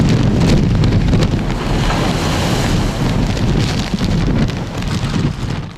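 A typhoon batters the Hong Kong waterfront with strong wind and heavy rain as waves break one after another, a loud, constant roar of gusts and surf buffeting the microphone.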